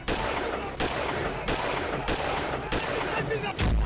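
A rapid series of loud gunshots cracks out at a street welcome gathering, roughly five or six sharp blasts spread over a few seconds, amid a noisy crowd-like background with slogans being shouted.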